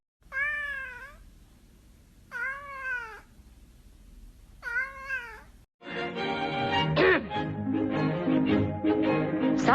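A pet cat meowing three times in a row, clear close-up meows with rising and falling pitch and short pauses between, followed by a burst of loud, dense, mixed sound.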